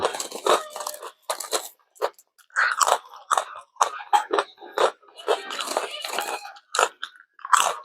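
Crunchy baked jackfruit snack bitten and chewed close to the mic, with repeated crisp crunches in irregular bursts and short pauses, alone without talk.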